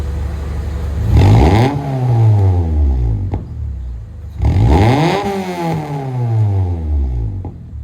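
A vehicle engine revs up twice, each burst of throttle rising then winding down, loud and close, with exhaust rumble between.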